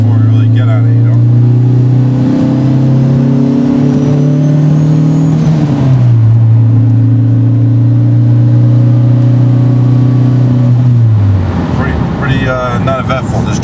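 A 500 whp Mitsubishi Evo cruises along with a steady, loud droning engine note that holds level, dips and resettles around a gear change at about six seconds, then drops off near the end; voices talk over the engine throughout.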